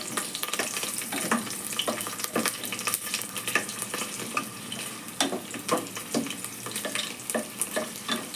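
Chana dal and chopped green chillies frying in hot oil, a steady crackling sizzle broken by repeated stirring scrapes in the pan, close and moderately quiet, with no voices.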